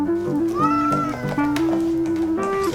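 A pet cat meows continuously in long, drawn-out, wavering cries, close and loud, with pitch sliding up and down across several calls and no talking.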